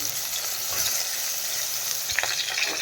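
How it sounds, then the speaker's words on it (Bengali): Eggplant pieces frying in a pan alongside fish and a small potato for a fish curry, giving a steady close sizzle with occasional pops and stirring scrapes, no talking. "দিয়ে দিলাম বেগুনগুলো একটু ভাজা ভাজা হয়ে মাছের সঙ্গে।"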